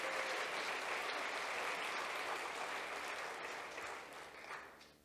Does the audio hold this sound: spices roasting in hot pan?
no